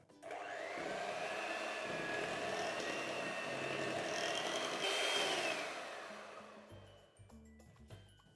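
An electric mixer whirs through raspberry white chocolate cake batter with added milk, a steady high motor whine that holds for several seconds, shifts pitch slightly, then cuts off, leaving faint clatter.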